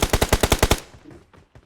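In the mobile game PUBG Mobile, a machine gun fires a rapid burst of about eight loud, evenly spaced shots, followed by fainter scattered gunfire.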